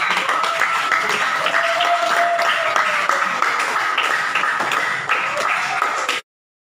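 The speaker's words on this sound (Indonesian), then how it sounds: "kasih tepuk tangan dong buat kita semua" A school class of students claps together in a room, with dense, steady applause for about six seconds before it cuts off abruptly.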